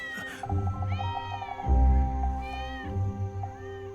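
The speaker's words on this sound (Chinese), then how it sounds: "哦，是有一只小野猫想偷吃咱家小鸭子" A small wild cat meows repeatedly in drawn-out, close, clear calls, three or four cries in a row with a low rumble beneath one of them.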